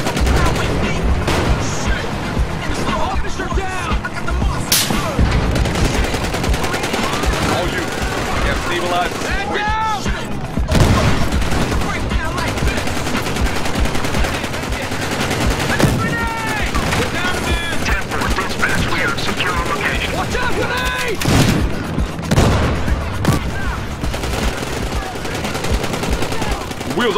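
Gunfire in Battlefield Hardline multiplayer: sustained bursts of automatic fire and single shots crackle throughout, loud and close, with sharper distant reports mixed in, while players talk over the battle.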